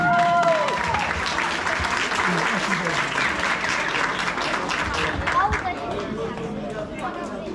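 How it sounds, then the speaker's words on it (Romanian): A wedding reception crowd applauds to welcome the bride and groom onto the dance floor, with loud, sustained clapping mixed with chatter and voices in a lively room. "Vă rugăm aplauze pentru mirii noștri!"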